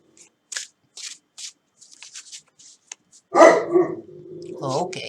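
An Alsatian barks loudly a few times near the end, after a stretch of soft shuffling and rustling sounds.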